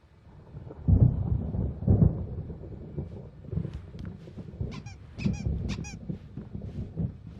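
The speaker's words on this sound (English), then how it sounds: "There's a storm coming. Oh, what a storm." Stormy thunder in Alan Wake Remastered, two deep rumbling booms near the start followed by a lower ongoing grumble, with some higher honking calls over it later.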